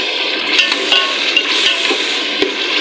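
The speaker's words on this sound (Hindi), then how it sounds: "फ्राई होगी तमाम चीज़ें। टमाटर, हरी मिर्चें कटी हुई शामिल कर दी इनके अंदर।" Tomatoes, chopped green chilies and potatoes frying in a pan for a dhaba-style aloo dish, with a steady close sizzle and occasional clinks and scrapes of a spoon stirring, no talking.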